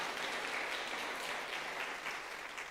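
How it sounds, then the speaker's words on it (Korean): Applause from a church congregation during a Sunday service, a steady wash of clapping that holds evenly for the full length without any voices over it. "박수 한번 쳐주실래요?"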